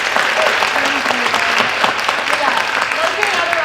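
An audience at a National Girls & Women in Sports Day panel in Westminster claps for the panelists, a dense, loud, sustained round of applause with talk heard over it.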